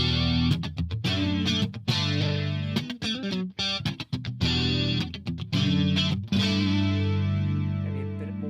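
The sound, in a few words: electric guitar with chorus effect from PolyChrome DSP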